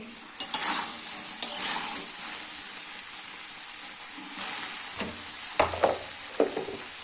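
Hot spice paste stirred in a metal cooking pot, with a few scraping strokes and knocks of a spoon against the pot over a soft sizzling hiss, close by.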